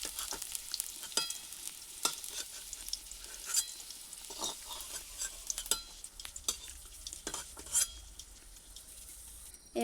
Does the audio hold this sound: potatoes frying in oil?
yes